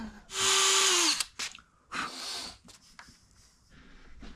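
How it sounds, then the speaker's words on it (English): A power drill drives screws into small wooden lips, a loud whirring burst up front, then a shorter second run and lighter scraping and handling noises, fairly close and with no talk. "So we're gonna drill these in."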